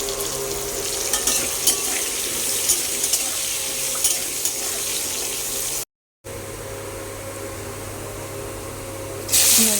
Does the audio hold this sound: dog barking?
no